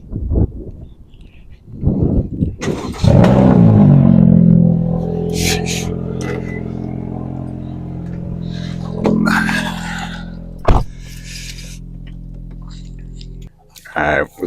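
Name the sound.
cold start of straight piped Honda Civic engine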